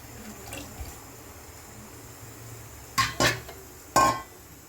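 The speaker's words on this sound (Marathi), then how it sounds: "आता हे बेसन मिक्स केलेलं आपण पाणी याच्यात ओतून घेऊ" A besan and water mixture is poured into a pot of tamarind water with tempering, heard as three quick close splashing pours near the end after a stretch of faint kitchen background with a light clink early on.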